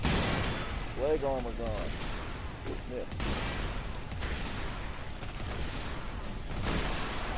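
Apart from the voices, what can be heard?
shotgun firing in Earth Defense Force 5 video game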